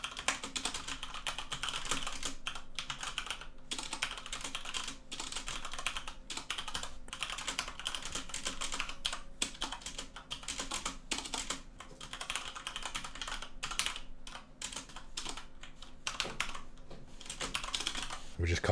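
Rapid, uneven typing on a computer keyboard clatters almost without pause, close and fairly quiet, while someone talks over it now and then.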